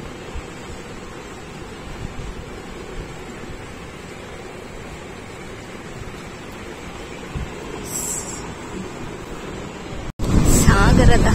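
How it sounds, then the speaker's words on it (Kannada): Ocean waves wash steadily onto the shore at Honnavar under gusty wind noise, ending in a sudden louder surge of water and wind. "ಸಾಗರದ ಅಲೆ."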